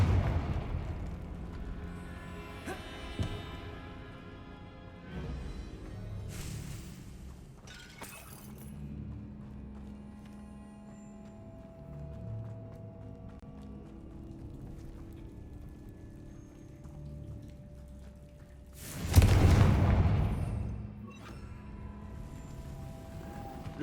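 Confringo fire spell blasts in the video game Hogwarts Legacy: a booming explosive burst stands out near the end, with earlier sharper cracks over a low ambient game score.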